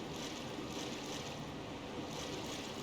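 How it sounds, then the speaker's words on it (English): A character wades through flooded water in the 1998 Resident Evil 2 game, giving a steady, rushing slosh and swish that holds at an even, moderate level throughout with no breaks. "You can disrupt the water here"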